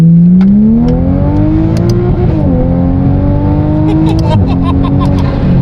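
A Toyota A90 Supra pulls hard in second gear, its engine note climbing steadily with two brief dips at shifts or lifts, loud and close, with a person talking over it.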